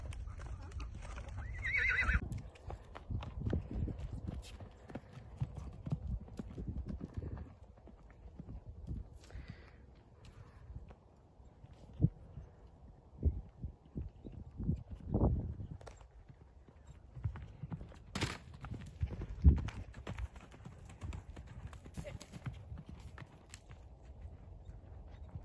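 Horses out on a trail ride on a mild December day, hooves clip-clopping at a walking pace with an occasional neigh, fairly close at times, amid outdoor noise and a few distant voices.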